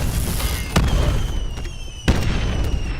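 War Machine grenade-launcher explosions in the Black Ops 4 multiplayer beta: two sharp, loud booms about a second apart, ringing out over steady in-game ambience and tonal background sounds.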